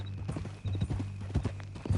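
Horse hooves clip-clop in a video game set on a ranch, a steady walking rhythm of soft close thuds with faint background ambience.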